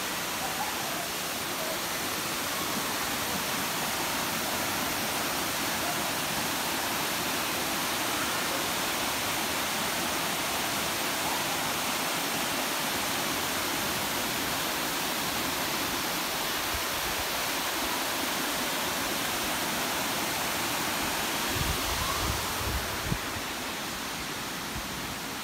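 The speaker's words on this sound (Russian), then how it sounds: "Вот он этот водопад." A waterfall in Khao Phanom Bencha National Park roars as a steady, broad wash of falling water, dense and unbroken throughout, with a faint low thump briefly near the end.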